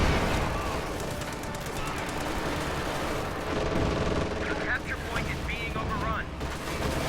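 Machine gun fire in a World War II strategy video game: dense, continuous bursts mixed with booming battle noise, running steadily under a commentator's talk.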